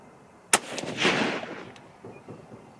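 A single loud, sharp rifle shot fired at a 100-yard target through a 12-power scope, followed by a brief rolling echo fading off outdoors.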